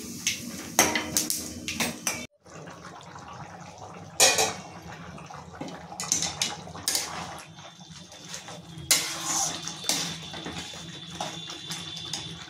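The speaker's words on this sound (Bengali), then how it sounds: "এবার একটু নাড়ছি।" Metal utensils scrape and clink against a pan while dried chillies and spices are stirred off the heat for a banana flower curry. Irregular clatters and scrapes come close, with a few louder knocks, and no talking.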